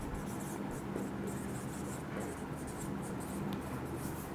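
Marker or chalk writing on a board during an accounting lesson on share buyback entries: a steady scratchy stroking texture running throughout, close and fairly quiet, with no talk over it.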